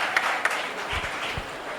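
An audience at a Hindi humorous poetry gathering in Jamshedpur claps to welcome a poet, a short burst of diffuse applause at moderate loudness.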